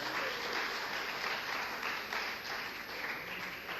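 A crowd at a Pune mushaira (Urdu poetry gathering) applauds to welcome a poet, an even, continuous patter of many hands clapping heard fairly faintly and at a distance throughout.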